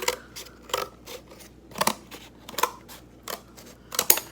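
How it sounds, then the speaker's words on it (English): Scissors cut paper into a cone shape with a series of short, crisp snips spaced about half a second apart, close and fairly quiet. "now I'm going to cut kind of like a cone shape"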